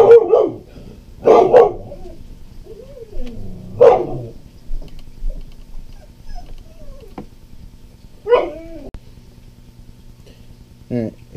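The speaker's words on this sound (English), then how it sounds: "My dog went ballistic. There was some deer out in the backyard." A dog barks at deer in a backyard, several sharp barks and whimpering yips in separate bursts spread over about ten seconds, fairly close and loud between quiet gaps.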